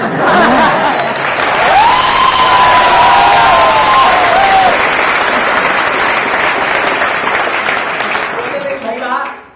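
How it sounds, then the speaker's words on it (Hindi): A large audience at a business meeting claps enthusiastically, sustained dense applause filling the room with voices and a few cheers mixed in, fading out at the end. "भाई ताली बजाना जम के बजाओ,"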